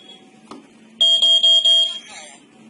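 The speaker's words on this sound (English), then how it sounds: "We wait for 5 to 8 seconds to hear 3 beeps." A series of loud, high-pitched electronic beeps, four short pulses in quick succession, from a nearby device against a quiet background.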